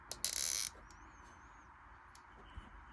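The plastic joints of a custom Eggman action figure from Sonic the Hedgehog give a short, loud burst of ratcheting clicks near the start, followed by faint creaks and a single small click.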